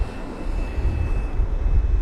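Lufthansa Airbus A320neo jet on arrival at London Heathrow on a windy day, a continuous broad engine roar with a faint steady whine, close and fairly loud.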